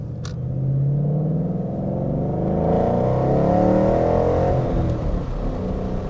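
A Ford Mustang GT V8 engine revs up steadily in a deep, rising rumble heard from inside the car, with no talking.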